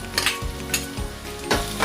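Chopped onion dropped into hot oil in a pan for dal tadka, a close, loud sizzle and crackle with some stirring scrapes, running through a short moment with no talking.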